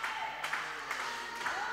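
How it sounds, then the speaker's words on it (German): A handball crowd cheers and claps steadily in the hall near the end of a match, a dense wash of noise with a few sharper bursts, heard alone without talk. "Schön, wir werden nochmal angefeuert."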